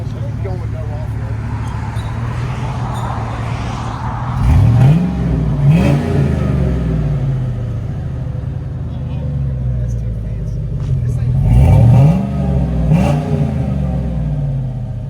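2006 Hummer H2 6.0L V8 with a Flowmaster 40 Series dual-in single-out exhaust, heard from outside: a loud throaty idle rumble with two pairs of quick revs that climb sharply and drop back.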